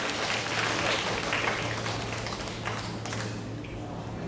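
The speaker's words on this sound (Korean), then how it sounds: "여러분 큰 박수 보내주십시오" An audience in a concert hall at a senior choir competition gives a singer a big round of applause, a dense, sustained crowd clapping with a steady low hum beneath.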